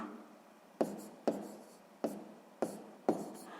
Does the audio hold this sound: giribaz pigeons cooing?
no